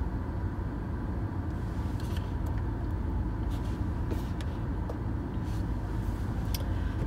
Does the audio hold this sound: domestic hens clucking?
no